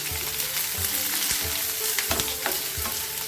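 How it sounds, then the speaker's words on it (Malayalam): Chopped onion and shallots sauté in a pan. A loud, steady sizzle of frying runs throughout, broken by occasional scrapes and knocks of stirring, with no talk. "രണ്ടും കൂടെ മിക്സ് ചെയ്തതാണ് ഇതൊന്ന് നല്ലതുപോലെ ഒന്ന് വഴറ്റിയെടുക്കാം"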